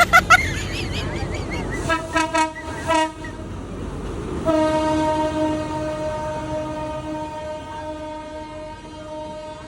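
A train rumbles through the Khlong Tan railway station market in Bangkok with bursts of clattering, then a long, loud horn blast that holds steady over the passing cars.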